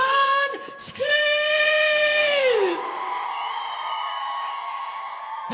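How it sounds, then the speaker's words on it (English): Crowd at a youth week event in Vaal: a sustained high, tonal scream or whoop rings out loudly, then a dense wash of cheering and screaming continues underneath. "Can you feel it? Come on, Vaal, scream!"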